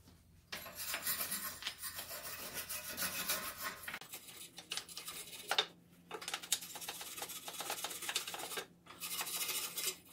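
Rust is scraped and rubbed off a metal exhaust pipe down to bare metal during a flex pipe repair, producing close, gritty rasping strokes in bursts separated by short pauses, with no speech.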